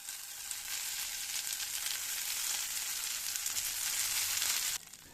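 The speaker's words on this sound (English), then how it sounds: "With the oil hot, I'll scatter the potato shreds" Shredded potato sizzles loudly in hot neutral oil in a skillet, a bright continuous crackle that holds steady and then drops abruptly near the end.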